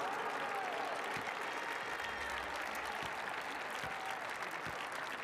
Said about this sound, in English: deserving applause for all of these players